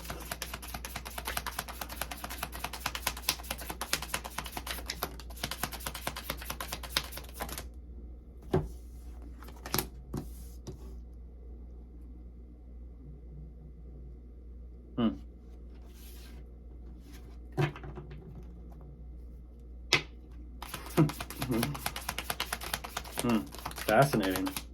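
Tarot cards shuffled by hand in a dense riffling patter for several seconds, then a quiet stretch with a few sharp flicks and taps, and the rapid shuffling returns at the end over a low steady hum.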